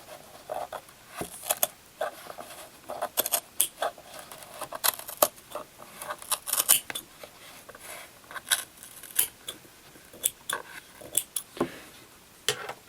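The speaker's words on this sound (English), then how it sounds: "we're just going to cut the yarn" A series of short, sharp snips and clicks of scissors cutting yarn, irregular and close, with quiet gaps between cuts.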